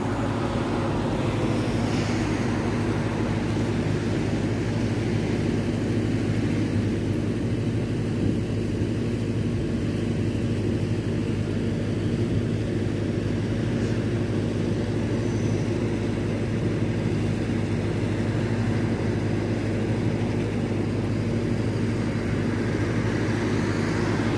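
A fixed-wing airliner approaching Heathrow Airport produces a steady, broad low roar that holds evenly throughout, with no voices present.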